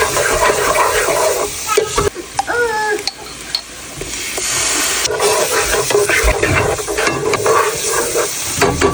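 Butter sauteing in a pan for jerk chicken rasta pasta, a loud, close, continuous sizzle and hiss broken by stirring scrapes and utensil knocks against the pan.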